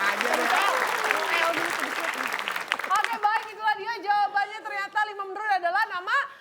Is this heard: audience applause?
yes